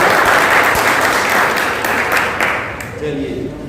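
A school audience at a road safety quiz competition claps in a dense, steady burst of applause. It fades slightly toward the end as voices rise underneath.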